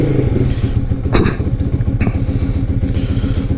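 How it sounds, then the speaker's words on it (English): A motorcycle with a freshly flashed ECU and a beta tune runs close by, its engine chugging in a steady rhythmic idle with a brief clattering burst of revs early on. "Alright, so this is firing up for the first time."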